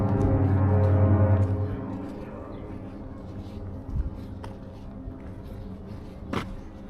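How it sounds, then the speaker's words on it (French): Two large cruise ships sound their horns in a Norwegian harbour, deep sustained blasts loudest at the start, then fading into background bustle with a few knocks. "les deux gros bateaux de croisière là-bas, ils viennent de se klaxonner"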